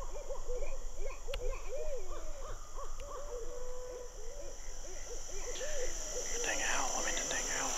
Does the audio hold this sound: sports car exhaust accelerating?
no